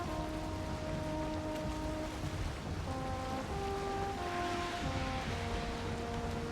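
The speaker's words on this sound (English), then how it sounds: "That sound is the sound of Certlings trying to spawn" Surtlings trying to spawn over open ocean in a survival video game produce sustained droning tones that shift in pitch, layered over a steady, full wash of sea and rain-like noise, with no talking.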